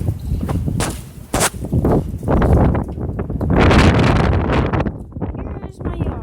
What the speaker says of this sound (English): There's some wind out here, but it's okay.